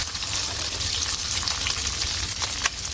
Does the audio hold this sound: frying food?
yes